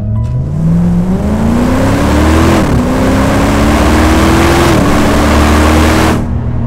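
A Land Rover Defender 90 Works V8 accelerates hard, with a loud, close engine roar that climbs in pitch, dips briefly at two gear shifts, and climbs again until it fades out near the end.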